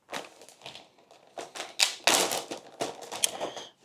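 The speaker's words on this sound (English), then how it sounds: "I'm gonna cut it into slices first and then into croutons." Knife slicing a quarter loaf of bread on a cutting board, cutting it into slices for croutons: a series of close, crisp irregular cuts and taps against the board, building in density toward the end.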